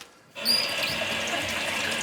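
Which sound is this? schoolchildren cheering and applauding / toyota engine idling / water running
water running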